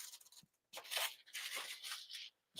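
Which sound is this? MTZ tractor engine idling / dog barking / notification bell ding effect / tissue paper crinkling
tissue paper crinkling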